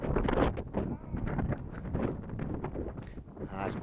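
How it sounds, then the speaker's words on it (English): Gusty wind buffets the microphone in low, uneven rumbles at a high school baseball game, with faint voices and outdoor noise underneath. "It is pretty windy here"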